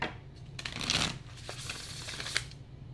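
A tarot card deck is shuffled by hand in a few quick, crisp riffling bursts, close and fairly quiet, with no talking.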